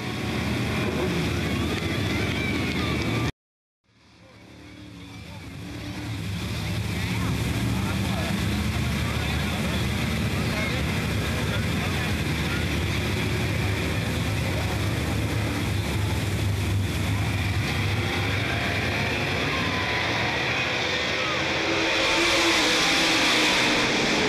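Sportsman race cars lap Smoky Mountain Raceway with a loud, steady roar of engines and wind that swells toward the end after a brief cut near the start. An announcer talks over the noise.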